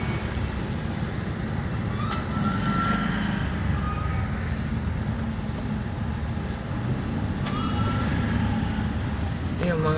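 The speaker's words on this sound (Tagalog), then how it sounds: "matraffic po kami dito, na-traffic po kami" Street traffic in a jam in the Philippines, with e-bikes among the vehicles: a steady, loud rumble of idling engines and passing vehicles, with occasional faint beeps, and no clear speech.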